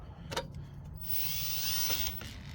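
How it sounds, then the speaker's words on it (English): A power drill in low gear whirs into material for about a second while working on the brakes of a 1974 Ford, preceded by a few clicks and knocks, heard close up. "Yeah, I'm going to end up breaking this drill bit too."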